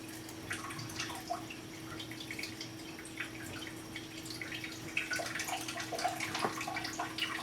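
Water runs and drips into a brewing pot being filled with two gallons of boil water for homebrewing, a soft continuous trickle with scattered splashes and a steady low hum beneath.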